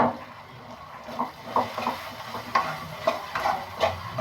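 Food frying in a pan for a boy who prefers fried dishes over curry, with a steady background sizzle and several sharp stirring scrapes and clicks spaced through the stretch.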